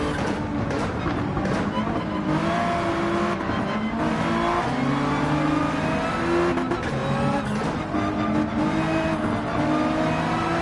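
Gran Turismo 7 race car screams through second gear, engine pitch rising and falling in repeated revs, loud and continuous, with a voice occasionally heard underneath.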